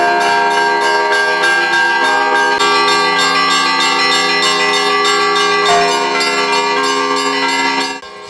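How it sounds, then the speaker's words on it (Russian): Orthodox church bells peal continuously and loudly during an Easter procession around the church, many tones overlapping in a rich, ringing clamor that rolls on for several seconds before starting to fade. "Крестный ход совершается вокруг храма при непрерывном трезвоне колоколов."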